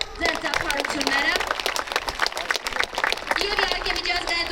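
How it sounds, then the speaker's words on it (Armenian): Crowd applause for an honored guest at a federation event in Abovyan, Armenia, steady clapping running throughout while a presenter's amplified voice speaks over it. "ձեր ծափահարությունները"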